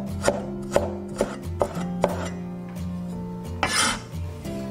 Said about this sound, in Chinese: 准备小块生姜，切姜丝